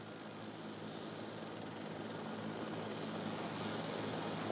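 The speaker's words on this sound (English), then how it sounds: "And here it comes in now, this JetBlue flight 292 with that front nose gear pointed sideways." A JetBlue Airbus A320, flight 292, comes in to land with its front nose gear jammed sideways, a steady distant roar of engines that swells slightly as it approaches.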